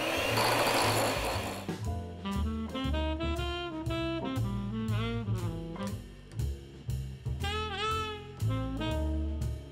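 An electric mixer creams butter and sugar for a 1940s coffee cake, a steady motor whir that shifts in pitch and pulses as the beaters work, close and fairly quiet, with no talk.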